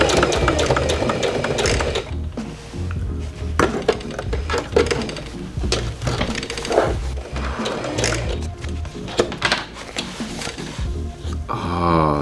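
A sewing machine stitches a sample jacket, with rapid mechanical clattering in uneven bursts and brief pauses, close and fairly loud, with no speech.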